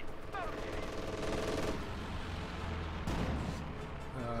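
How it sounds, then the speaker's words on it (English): Mortar fire and other battle sounds in Company of Heroes 2 pound in heavy booming impacts, with a sharp blast near the three-second mark amid continuous gunfire and game noise. "What an excellent mortar."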